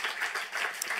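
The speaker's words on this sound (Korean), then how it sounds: "여러분, 이 모든 영광을 하나님께 박수로 올려드립시다." A church congregation applauds together, giving a short, full burst of many hands clapping at a steady moderate level with no break.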